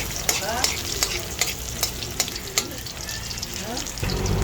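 Garlic frying in cooking oil in a pan gives a steady close sizzle, broken by sharp scraping clicks of stirring spaced every half second or so, with a deeper rush of heavier frying near the end.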